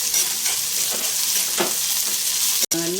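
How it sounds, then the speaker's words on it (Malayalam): Sliced onion sautés in a pan, a continuous close frying hiss with occasional soft stirring scrapes, then a short sharp tap near the end followed by a faint tonal ring, with no speech. "വഴറ്റി വെക്കാം സവാള ഒന്ന് ഒന്ന് വാടി വെക്കാം"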